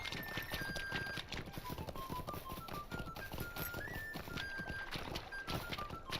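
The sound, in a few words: horse hooves in video game The Lord of the Rings Online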